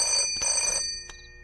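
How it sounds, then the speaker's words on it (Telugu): A telephone bell rings loudly in two long electronic bursts separated by a short pause, then a brief fainter blip; no one speaks. "మీ వాడెవడో పొద్దున్న నుంచి ఫోన్ చేస్తున్నాడు."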